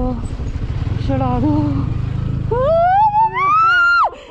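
A motorcycle on an Uttarakhand ride labours uphill in first gear, its steady low rumble running throughout close up, while people call out loudly over it with rising, excited voices.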